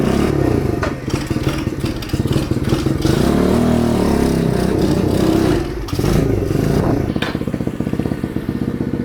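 A cheap 125cc pit bike running on bad gas is ridden close by, its loud engine revving up and down with a rattly, clattering tone throughout.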